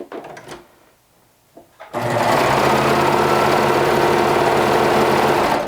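A cover stitch sewing machine hems pre-hemmed sleeves, starting after a short quiet pause with a few soft handling taps, then running steadily and loudly with a fast, even mechanical whir that continues to the end.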